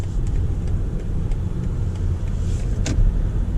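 BMW iX xDrive 50 electric car accelerating on a city road, heard from inside as a steady low road and motor rumble with faint cabin noises, no talking.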